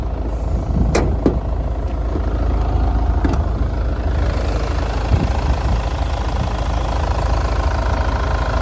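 A 2.2-liter diesel engine in a 2011 Mitsubishi Outlander XL idles steadily and loudly up close under the open hood with a rough, knocking rumble, plus a few light clicks early on.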